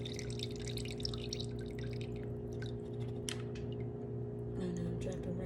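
Rice water being poured out of a container, leaving a quiet sequence of small drips and trickles against a steady household hum, faint and close with no talking.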